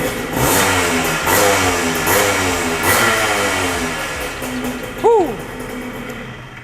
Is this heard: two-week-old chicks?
no